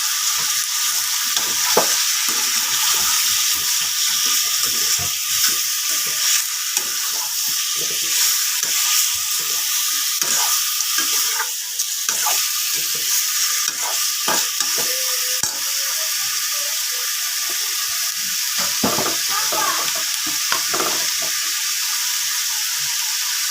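Chicken frying in a pan with turmeric and spices, stirred steadily, giving a continuous close sizzle broken by scraping and clinking of the spoon, with no talk.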